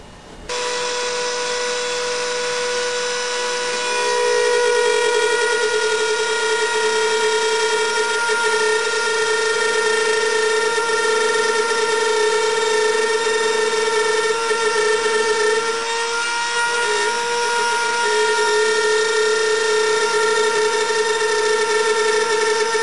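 A Dremel rotary tool routes a binding channel into a handmade guitar body, giving a steady, high-pitched motor whine that runs continuously and loudly for the whole stretch with only a slight dip near the middle.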